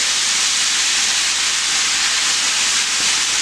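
Cajun catfish and shrimp deep frying in oil make a loud, unbroken hiss close by, steady and bubbling throughout with no voices.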